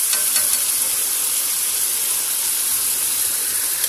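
Fresh cream being stirred into a hot pan while making a chicken sandwich and burger filling, a steady close sizzle with soft stirring, with no voices.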